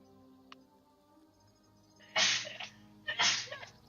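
A single sharp sneeze bursts out close and loud, followed a moment later by a second sneeze, with near silence before and between them.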